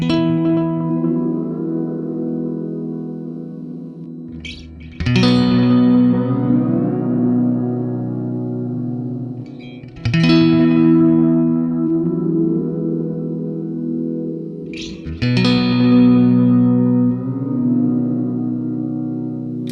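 Electric guitar chords ring out through an Electro-Harmonix Pitch Fork polyphonic pitch shifter pedal, each strum swelling with layered, shimmering harmonies and long echoing decay, repeating four times.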